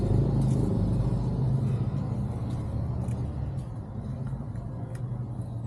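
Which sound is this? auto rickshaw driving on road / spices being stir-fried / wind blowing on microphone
auto rickshaw driving on road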